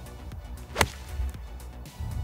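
A golf club swings through and strikes the ball during a matchplay round, a single sharp whip-like swish and crack standing out near the start against quiet outdoor background.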